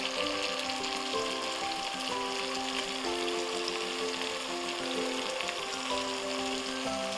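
Tomatoes and tomato paste fry in a pot with a continuous, even sizzle and crackle, steady and close throughout, with no talking.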